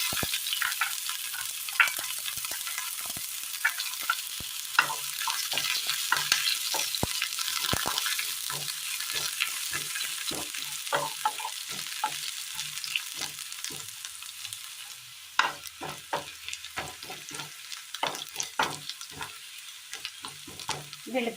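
Shallots frying with mustard seeds in hot oil in a pan, a constant bright sizzle broken by frequent scraping clicks of stirring, with a brief louder burst partway through.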